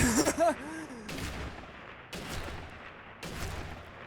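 Gunfire in the Sniper Elite video game: several sharp shots a second or so apart, each followed by a fading tail, with someone speaking briefly at the start.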